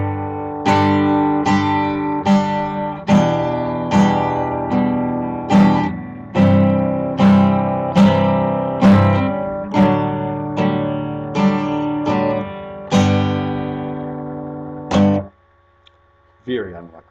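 Electric guitar playing a reggae rhythm of four upstrokes per bar, each sharp chord stab landing on the beat in a steady repeating pattern, loud and alone, ending with a final stroke and a brief quiet tail.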